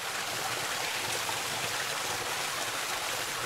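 Steady flowing water from a recirculating system that reuses nearly 8,000 litres, a continuous broadband rush like a stream with no pauses, moderately loud and alone.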